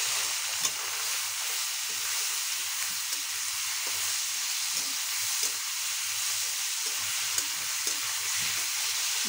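Fish sizzling in hot oil with black cumin in a pan, a steady, fairly soft frying hiss with faint crackles throughout and no talk.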